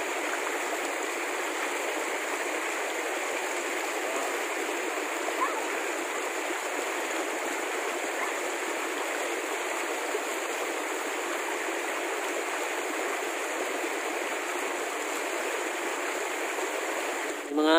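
Tawing River in Zamboanga Sibugay rushes steadily past, a close, continuous babbling stream sound holding an even level throughout, with a brief splash near the end.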